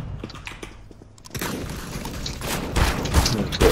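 Gunfire in the game CS:GO, with a sharp crackling burst of shots coming in after a brief lull, dense and close with clicking mechanical sounds mixed in.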